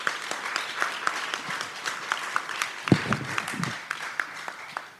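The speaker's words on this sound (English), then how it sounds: "big, big applause for Stephan." An audience applauds artist Stephan at an art event, a steady crowd of clapping hands in an even patter with a few sharper claps and a brief low thump midway.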